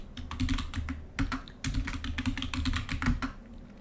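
Rapid keystrokes on a computer keyboard while a password is entered at a Linux terminal: irregular bursts of close, crisp clicks with short pauses, no voices.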